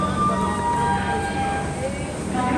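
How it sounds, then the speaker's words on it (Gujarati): A train at Kalupur railway station in Ahmedabad, a steady loud rumble with faint tonal whines and station hubbub, with a voice speaking over it. "આ છે અમારી ટ્રેન"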